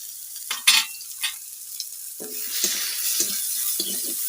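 Onions frying in oil in a village kitchen, a soft hiss of oil under a series of separate scraping and clattering stirs, close and moderately loud, with no speech.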